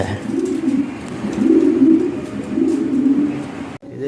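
Lahore pigeons coo close by in low, rolling pulses, several swelling calls back to back, loud and with no talk over them.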